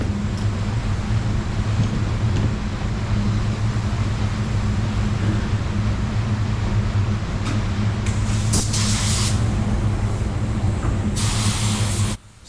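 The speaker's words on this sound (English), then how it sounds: "let you know what spray gun I'm using. I'm using the MP V8, it's called, and it's from Fuji" Fuji MP V8 spray gun spraying pearl white paint, a loud steady hiss with a low compressor-like hum beneath, running continuously before cutting off abruptly at the end.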